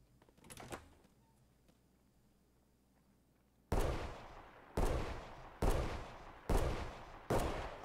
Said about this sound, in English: he's shooting at a human player